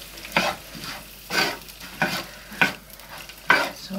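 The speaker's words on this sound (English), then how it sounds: "So I'll just give that a good stir." Vegetables for a vegetarian curry stirred in hot vegetable oil in a pan, about six distinct scraping strokes in an uneven rhythm over a light sizzle, close and clear.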